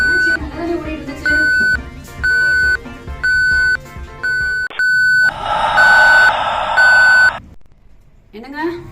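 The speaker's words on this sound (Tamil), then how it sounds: "வாஷிங் மெஷின்ல இருந்து ஏதோ ஒரு பீப் சவுண்ட் கேக்குது." A washing machine gives a run of short, evenly spaced electronic beeps, loud and close, about one per second, then a longer sustained tone amid a burst of noisy clatter; a voice speaks briefly at the end.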